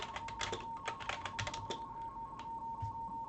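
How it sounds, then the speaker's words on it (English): Quick, irregular clicks of keys being typed on a keyboard, fairly quiet, over a steady high-pitched electronic tone. "And I start typing here"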